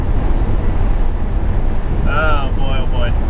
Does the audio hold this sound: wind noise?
yes